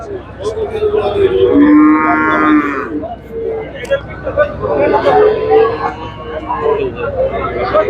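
Dairy cows at a cattle market, with loud, drawn-out moos rising over crowd babble and talking, close by amid the busy market bustle.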